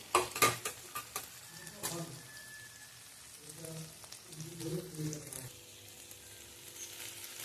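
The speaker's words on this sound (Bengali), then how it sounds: "আদা রসুনের কাঁচা গন্ধটা চলে গেলে তারপর ওই যে বাটনাটা করে রেখেছি ওইটা দেবো। 2 মিনিট মতো ভেজে নেবো।" Ginger-garlic spice paste frying in a little oil in a pan, a quiet sizzle with a few sharp stirring clinks and scrapes at the start, then softer stirring over steady low crackle.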